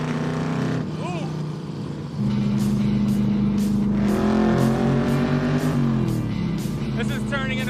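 A 1974 Chevy Corvette, a slammed wide-body car with a big-block engine and 4-speed, drones steadily while driving, its note climbing through shifts and revs, loud and close, with brief voice bits over the engine.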